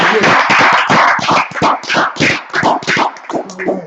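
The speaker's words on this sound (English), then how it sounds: "Hey, clap it up, man." A group of people clap together at an outdoor street gathering in Minneapolis: loud, close, continuous rapid clapping with uneven bursts throughout.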